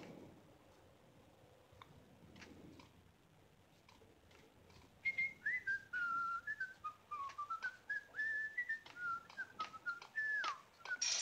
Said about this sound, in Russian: Так, стоп, он где-то свистит.